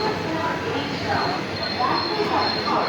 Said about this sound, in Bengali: আমাদের ট্রেনটা দাঁড় করালো হচ্ছে দু নম্বর প্ল্যাটফর্মে